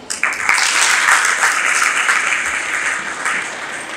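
An audience claps before a poem recital about a father, a loud dense burst of applause that holds steady for several seconds with no talking over it.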